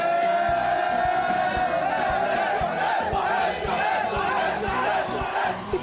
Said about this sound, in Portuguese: Momentos emocionantes fizeram a torcida estremecer o ginásio